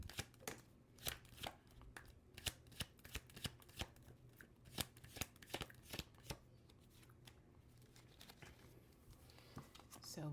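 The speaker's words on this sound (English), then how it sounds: "Let's finish this shuffle." Tarot cards are shuffled close by in a run of crisp, rapid riffling snaps and flicks that come in irregular bursts and fade out toward the end, with a quiet voice talking alongside.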